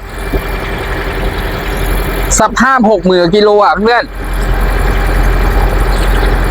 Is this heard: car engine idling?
yes